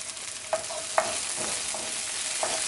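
Diced cured lemon and green onions browning in a quinoa stir fry, a soft steady sizzle with a few faint spatula scrapes, quiet and close.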